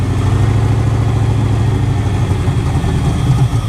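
A Chevy K1500 truck engine runs loud and close on held throttle, a steady, dense rumbling drone with little change in pitch across the few seconds.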